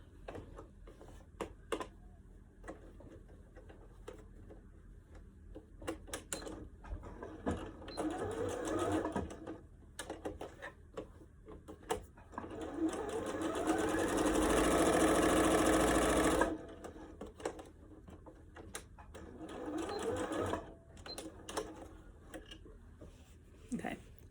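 Sewing machine stitching a fabric casing around the wire of a cloth face mask, whirring in short bursts and one longer run, fairly close, with quiet handling noises between.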